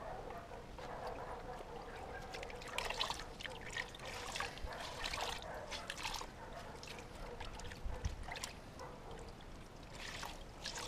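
Water from a hose trickles and splashes across an EGO lawn mower during a final rinse, a steady soft spattering at moderate distance with no talk.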